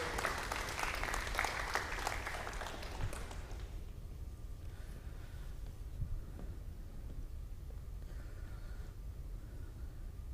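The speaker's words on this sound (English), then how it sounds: "Can we have a big round of applause for Miss Thew?" Audience applause at a school sports awards ceremony for a softball player, a dense burst of clapping that fades out after a few seconds into quiet room tone.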